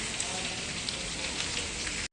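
Heavy rain falls outside a Vijayapura hostel as an even, faint wash of hiss that holds steady, then cuts off abruptly.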